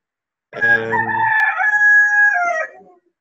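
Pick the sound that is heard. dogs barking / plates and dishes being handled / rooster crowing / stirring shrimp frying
rooster crowing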